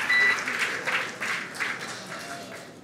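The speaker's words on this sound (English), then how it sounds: "Crowd goes wild for Crew 4." A crowd cheers and applauds at the SpaceX Crew-4 splashdown, a steady wash of clapping and whoops with a brief beep at the start, moderately loud and slowly easing off.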